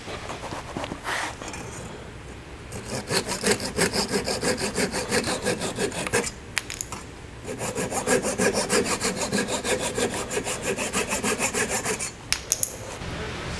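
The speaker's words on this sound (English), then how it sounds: "To trim my wedges, I'm just using a Shark detail saw." A Shark detail pull saw trims wooden wedges in quick, steady rasping strokes, pausing briefly between two long runs of close, crisp cutting.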